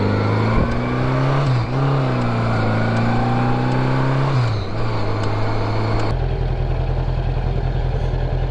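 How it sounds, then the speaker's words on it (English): A 1981 Honda Goldwing GL1100 motorcycle engine runs steadily nearby, its tone rising and falling slightly with throttle blips before settling into an even, loud drone; no talking. "This engine sounds good"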